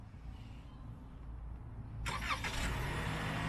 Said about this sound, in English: The car is now started,